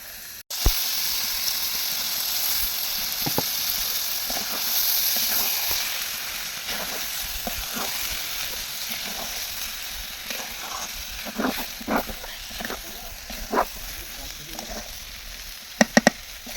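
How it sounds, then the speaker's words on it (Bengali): Rice and lentils with spices fry in a pan, giving a soft, steady sizzle with scattered scraping stir sounds and occasional sharper clicks, fairly faint and close, with no talking. "আমি ভালো করে ভেজে নিচ্ছি কারণ চাউল যদি ভাজা না হয় ভালো করে তাহলে ভালো লাগে না"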